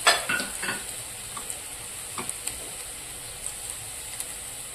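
Green chillies sizzling in a pan with onion fried reddish-brown, a steady close hiss with a few stirring clinks and light pops, no talking.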